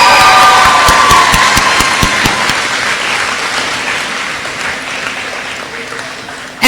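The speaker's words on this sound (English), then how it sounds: "Let's give them a round of applause" Loud audience applause and cheering from a crowd at an 8th grade promotion ceremony for Rogers H middle school, dense steady clapping with shouts that slowly fades over several seconds.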